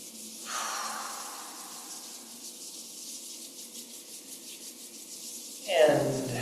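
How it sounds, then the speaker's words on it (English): Palms rubbed together in a steady, continuous dry swish for several seconds, fairly close and soft, ending in a brief louder rub. "Rub the palms together."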